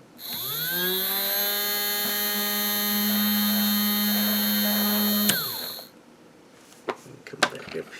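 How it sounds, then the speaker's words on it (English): A small Snap Circuits electric motor whirs up to a steady high-pitched whine, holds it for several seconds, then cuts off abruptly, followed by a few light clicks and handling noises. "if I let the motor spin up some"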